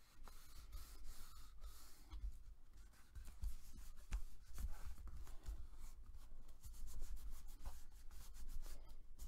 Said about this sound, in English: And go ahead and burnish that again